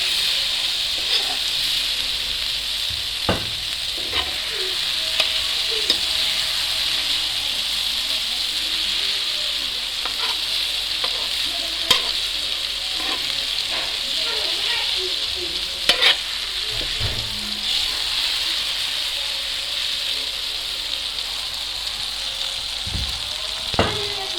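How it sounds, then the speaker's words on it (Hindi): Minced beef qeema fries on a flat tawa under a continuous crackling sizzle, punctuated by sharp clicks and scrapes as a spoon repeatedly stirs it against the metal. "बार बार इसको चम्मच से हिलाना है ताकि अच्छी तरह जो है वो पक जाए।"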